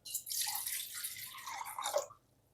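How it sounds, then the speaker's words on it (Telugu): Water is poured from a glass into a pot on a stove, a brief splashing trickle lasting about two seconds, close and moderately quiet. "ఫస్ట్ స్టవ్ మీద గిన్నె పెట్టుకొని స్టవ్ ఆన్ చేసి ఒక గ్లాస్ ఆఫ్ వాటర్ యాడ్ చేసుకుంటున్నాను."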